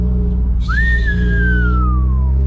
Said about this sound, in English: I can't fucking whistle, can I?